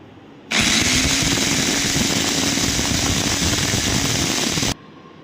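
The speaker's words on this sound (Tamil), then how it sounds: "அதே சாப்பரில் நம்ம எக்கை நல்லா பீட் பண்ணி எடுத்துடலாம்." An electric chopper whirs loudly and steadily for about four seconds while beating eggs, starting and stopping abruptly, with a rattling motor drone close by.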